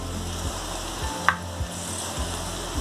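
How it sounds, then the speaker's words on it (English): Spices including red chili, coriander powder, garam masala and black pepper sizzle steadily in a pan for a coconut chicken curry, with a rhythmic scrape of a stirring spoon roughly every half second and one sharper clink. "black pepper, saute well."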